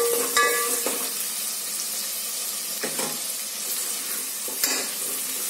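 Chopped green garlic stalks sizzle steadily in hot oil in a pan, with a soft continuous frying hiss broken by a few clinks and stirring scrapes.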